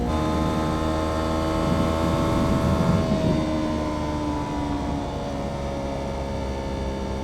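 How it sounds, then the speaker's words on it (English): A Kawasaki Ninja 500 motorcycle makes a steady high-revving engine whine under heavy wind rush during a top-speed run on an open road, loud and continuous with no talk. "this might be a perfect spot to do a top speed pull on the bike"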